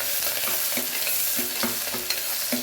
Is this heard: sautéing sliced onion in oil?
yes